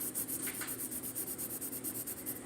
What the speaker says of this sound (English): you'll hold your pencil like this, with this part facing downward, so you can get that little sketching line